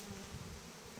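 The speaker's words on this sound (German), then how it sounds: "Also da sind wirklich schon richtig dick Bienen geschlüpft." Dense, steady hum of honeybees swarming around an opened beehive during brood-chamber work, a continuous close buzz with no talking.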